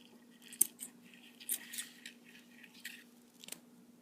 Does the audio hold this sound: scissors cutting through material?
yes